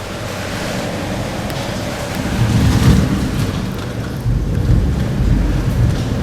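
A huge storm pours heavy rain in a dense, steady roar, loud and close, with deep rumbles of thunder swelling through the middle and again toward the end.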